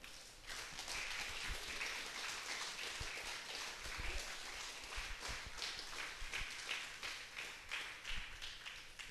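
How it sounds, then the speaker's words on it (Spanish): A church congregation applauds together for the Lord, a dense, steady patter of many hands clapping from start to finish at a moderate distance. "prendan un aplauso al Señor"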